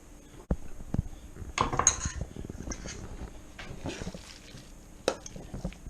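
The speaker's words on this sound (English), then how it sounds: "I'm going to put the filling in the pan" Spinach pie filling goes into a lined pan with a spoon, making a close, busy stretch of metal scrapes, taps and soft squishy plops, with a few sharper clinks along the way.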